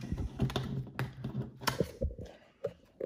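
Lair cards from the board game A Touch Of Evil are shuffled close by, making a quick burst of crisp, clicking riffles and soft slaps over about three seconds.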